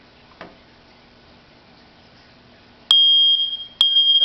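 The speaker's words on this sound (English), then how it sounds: "This is a test of my new smoke detector system." A newly installed home smoke detector sounds during a test: after a faint click, a loud, piercing electronic beep blares steadily, cuts out briefly, then resumes, close and alone.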